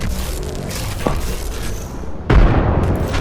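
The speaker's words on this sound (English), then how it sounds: "Incoming grenade." Grenade blast in Apex Legends: a sudden heavy boom lands partway through, over a steady roar of game noise, loud and close.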